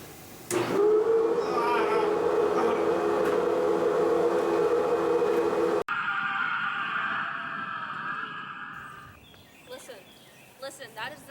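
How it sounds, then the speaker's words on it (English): A long, drawn-out howl of anguish rises and holds steady for several seconds, then breaks off and gives way to a fainter, wavering cry that tapers into quiet, scattered sounds. "Listen, that is the sound of ultimate suffering."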